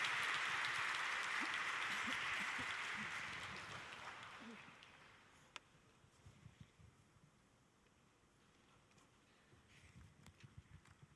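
An audience claps during a talk concert at a church service. The applause is steady and fairly strong for several seconds, then fades into quiet room noise with a few scattered knocks.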